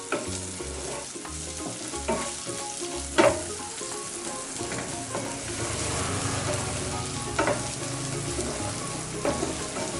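Onions fry in a pan, sizzling steadily while being stirred, with a few louder scrapes and clatters of the utensil against the pan, for spaghetti carbonara.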